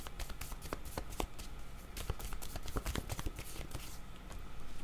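Picture cards shuffled, drawn and handled in a card reading, with a steady run of close, crisp flicks and soft slaps, no talking.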